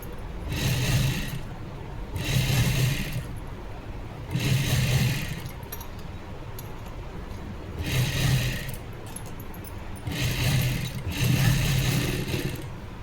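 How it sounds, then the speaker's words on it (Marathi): A sewing machine runs cover stitching on a blouse in five or six short bursts of whirring, each a second or so long, separated by quieter pauses, close by. "आता त्याच्यावरती कवर शिलाई करायची आहे।"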